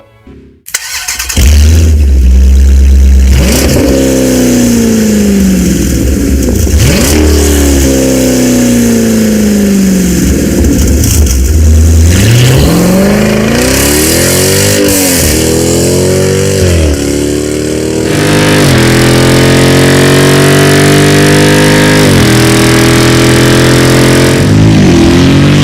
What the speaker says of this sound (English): Borla ATAK is the loudest and most aggressive option here with sharp cold starts and savage acceleration tone